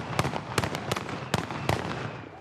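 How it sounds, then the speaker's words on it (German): Ceremonial gun salute shots welcome a politician, a series of sharp, loud reports in quick irregular bursts, each with a short echoing tail, and no talking. "sondern nach standesgemäßer Begrüßung durch Böllerschüsse"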